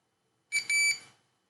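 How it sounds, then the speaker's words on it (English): A quick burst of high electronic beeps from a hotel key card encoder connecting by USB, two or three in close succession, sharp and fairly loud against silence. "if it connects correctly, it will give a few beeps"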